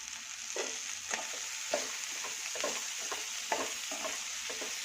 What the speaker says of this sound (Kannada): ಇದು ಸಣ್ಣ ಉರಿಲೇ ಬೇಯಿಸ್ಕೋಬೇಕಾಗುತ್ತೆ ಬೀನ್ಸ್.